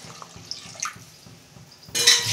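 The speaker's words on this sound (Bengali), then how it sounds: "আমি পরিমাণ মতো জল দিচ্ছি" Water poured into a pan of fish curry after the fried vegetables have released their oil. A quiet splash and clink lead into a louder pour near the end, close by.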